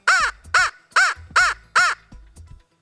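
A handheld Harrison crow call, a turkey-hunting locator call, is blown in five loud, evenly spaced caws that closely imitate a crow, with a short quieter note trailing at the end.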